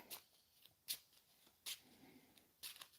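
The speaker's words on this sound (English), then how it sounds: "all right, shuffles our deck." Playing cards are shuffled in four quick riffles, close and quiet, with brief pauses between each burst and no talking.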